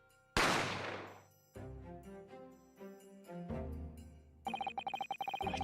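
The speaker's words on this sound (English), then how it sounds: "I didn't have time to think about where the sound of the gunshot had come from." A single loud gunshot rings out in The Great Ace Attorney, a sharp crack with a long decaying tail, followed by dramatic piano-like musical stings and a bright, pulsing chime near the end.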